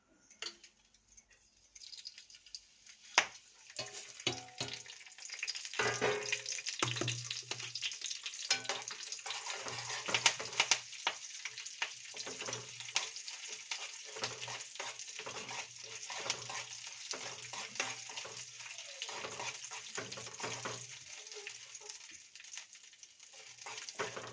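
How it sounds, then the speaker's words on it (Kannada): Cumin, curry leaves and mustard seeds frying in hot oil, a continuous close crackling sizzle with popping bursts and occasional stirring clinks, no voices. "ಜೀರಿಗೆ, ಕರಿಬೇವು, ಸಾಸಿವೆ ಹಾಕ್ಕೊತಿದ್ದೀನಿ ರೀ."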